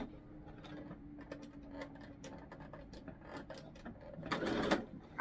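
A sewing machine stitches forward and reverse through denim jeans, a steady mechanical whir running throughout with small clicks. It grows louder and denser near the end.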